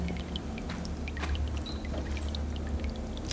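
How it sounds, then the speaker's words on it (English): Water pours steadily from a waterfall in the horror video game Gloomwood, a constant rushing wash with faint drips and clicks scattered over it. No voices are heard. "Let's go in the waterfall. And there is something in the waterfall."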